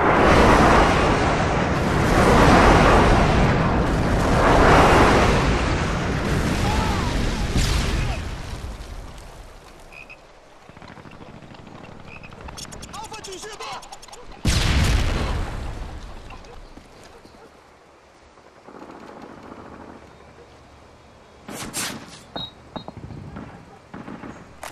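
Several heavy airstrike explosions in Modern Warfare 2, a Hardcore Search and Destroy match: loud rolling booms fill the first seconds, with later sharp blasts and crackling bursts at a distance.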